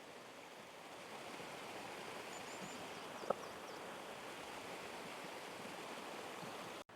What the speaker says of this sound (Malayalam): പോകുന്ന വഴിക്ക് നമുക്കിത് ഇതുപോലെ ഇങ്ങനെ സ്ട്രീംസ് കാര്യങ്ങളൊക്കെ ഉണ്ടാവും.